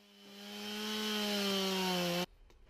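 A chainsaw motor revs and holds a steady, loud whine for about two seconds while carving wood, then cuts off abruptly.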